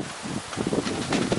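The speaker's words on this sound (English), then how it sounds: "that wind is something." Gusty wind blows outdoors where young puppies are being filmed, a steady broadband rush with louder buffeting surges against the microphone partway through, heard alone without talk.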